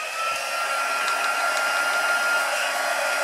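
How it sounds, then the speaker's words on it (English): A heat tool blows hot air for heat embossing on cardstock, giving a steady, fairly quiet whooshing roar that holds even and unbroken for the whole stretch. "Heat tool."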